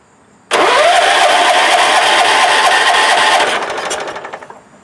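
Wheel Horse 416-8 garden tractor engine cranking over, a sudden loud start of steady whirring starter noise that holds for about three seconds, then tapers off, close and alone.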